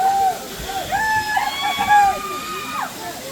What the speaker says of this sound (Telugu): ఇదే వాటర్ ఫాల్స్.